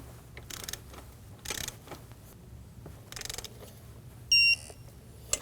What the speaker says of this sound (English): And now we're gonna torque it to 14 foot-pounds.